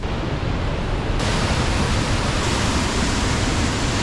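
The waterfall in Johnston Canyon roars as a dense, loud, steady rush of falling water that fills the whole scene without a break.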